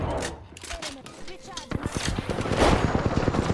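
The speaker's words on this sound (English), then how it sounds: "I'm getting shot in the side?" Rapid bursts of gunfire in the video game Apex Legends, sharp repeated cracks growing louder and denser toward the end, mixed with game effects and occasional voice.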